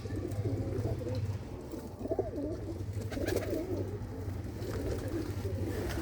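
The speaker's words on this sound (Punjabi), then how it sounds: "ਹੁਣੇ ਲਓ ਜੀ ਕੁਝ ਕਬੂਤਰ ਆ ਗਏ ਬਾਹਰ" Pigeons coo outside their coop in a repeated low, rolling pattern, fairly close and moderately quiet, with a steady low hum underneath and a few faint chirps.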